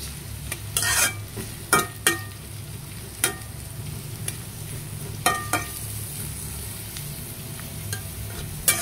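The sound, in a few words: chopped onion added to frying pan for hilsa fish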